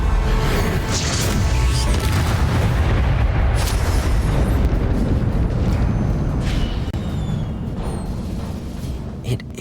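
The Incendio fire spell is cast in Hogwarts Legacy, giving a loud, sustained roaring blast of flame with booming rumbles and crackling bursts over dense game sound.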